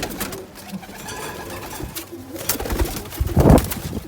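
Pet pigeons coo in a coop, soft throaty calls rising and falling close by, with a louder burst of cooing and flutter near the end amid general bird noise.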